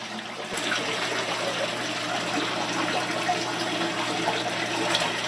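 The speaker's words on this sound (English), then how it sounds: "You have to dump a bunch of water out first before you can get anyone." Water being poured and dumped out of a fish pond container, a continuous broad gushing and splashing that stays steady and fairly close for several seconds, with no voices.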